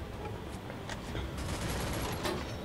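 Rapid gunfire bursts in the Free Fire mobile battle royale game, a dense continuous crackle of automatic shots sounding steady and mid-level throughout without talk.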